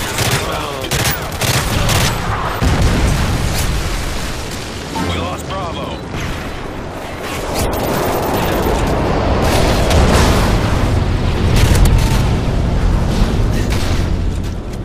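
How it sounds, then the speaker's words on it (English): Video game air strike from a predator missile, heard as continuous loud explosions and dense gunfire throughout a busy battle, with rumbling booms and talk mixed into the chaos. "Friendly predator missile inbound."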